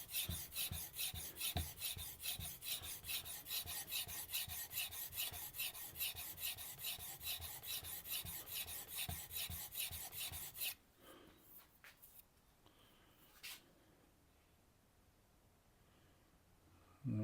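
A wood chisel is worked on a Tormek T8 sharpener in quick, rhythmic rasping strokes for about ten seconds, then stops, leaving near silence with a few faint clicks.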